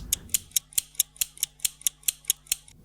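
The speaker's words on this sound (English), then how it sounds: "It's just me playing some scissors without these two lo-fi effects." Scissors played as percussion with no lo-fi effects, twelve crisp, bright metallic snips in a steady even rhythm, close and clean over a faint low hum.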